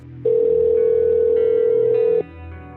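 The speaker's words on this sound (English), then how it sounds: "The phone rings twice before a man's voice answers." A telephone ringing during a call in a Delta Green tabletop role-playing session: one loud, sustained electronic tone of about two seconds that cuts off abruptly, with a quiet background before and after.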